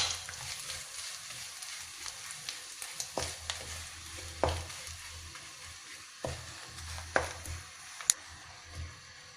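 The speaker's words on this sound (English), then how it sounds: "you put in the salted egg yolk. And stir fry it together." Salted egg yolk and curry leaves are stir fried in a pan, giving a soft, low sizzle broken by occasional spatula clicks and scrapes, close and quiet.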